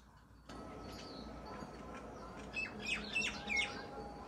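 A myna bird near a home gives a series of squawking calls and chirps, loudest toward the end, over steady background noise.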